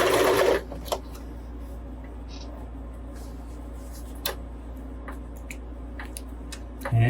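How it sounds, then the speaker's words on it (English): A sewing machine backstitching at the end of a seam gives a brief loud burst at the start, then settles into a low steady hum with a few faint clicks. "And again, once you're at the top, do your back stitch."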